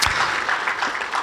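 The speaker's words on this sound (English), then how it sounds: "So let's give him a round of applause for his playing career." An audience at a pickleball hall of fame induction ceremony applauds a four-time World Senior Games champion, a brief burst of steady clapping heard moderately loud from the room.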